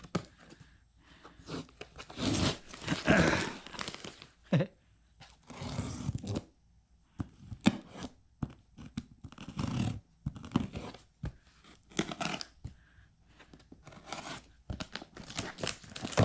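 Blue and white packing tape is ripped and peeled off a shipped box in repeated close, crackling tearing bursts, separated by short pauses and soft rustling of cardboard.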